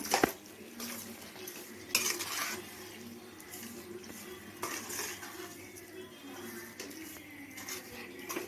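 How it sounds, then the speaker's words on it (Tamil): Pepper chicken sautéed in a pan is stirred with a utensil that scrapes and clinks against the metal in irregular strokes, a soft sizzle running beneath the close, moderately loud clatter. "இப்போ நல்லா வதக்கி விடுங்க"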